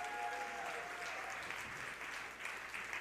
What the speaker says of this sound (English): please give Reverend Juan another round of applause